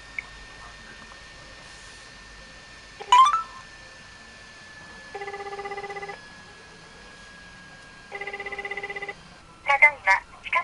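Telephone call being placed, with short beeping tones, then two long ringback tones of about a second each separated by silence, ending in a few quick electronic blips, heard close and clear over faint background noise.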